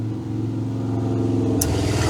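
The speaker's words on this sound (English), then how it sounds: "A motorcycle would have to come by." A motorcycle passes outside, its engine drone rising and steadying in a loud, continuous rumble with a brief sharp click near the end.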